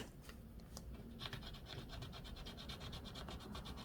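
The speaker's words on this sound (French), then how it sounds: "On gratte une carte?" Coin scratching the coating off a scratch card, a close rapid rasping rub that picks up after a second and continues steadily, fairly quiet.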